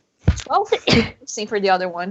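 A single sharp sneeze bursts out among several people chatting, loud and close, with conversation continuing right after it.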